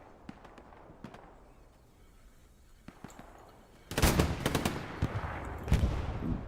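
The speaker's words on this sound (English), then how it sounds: "Doom popping shots on Edgy" Gunfire rattles through a video game skirmish, starting with sparse scattered shots and then breaking into a loud, dense burst of rapid automatic fire with sharp cracks.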